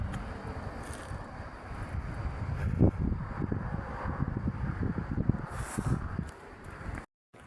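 Wind gusting outdoors in the city of Joinville, a steady broadband rush with rustling buffets close to the microphone for several seconds, cutting off abruptly near the end.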